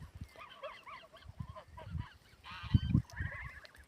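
Poultry in a yard giving repeated nasal honks and cackles, a busy close chorus with a louder burst midway.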